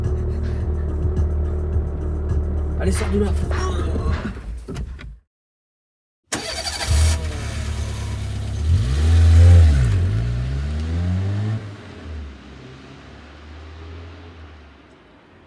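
A Peugeot 106 engine revs hard in rising and falling sweeps after a door bangs shut, with a brief silent gap before the loud revving surges and then settles to a lower idle; a voice speaks briefly early on.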